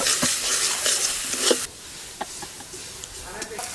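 Masala being stirred and fried with tomato puree for a desi chicken curry, with a steady sizzle and scraping stirs in a pan, the frying louder at first then quieter, under a person talking.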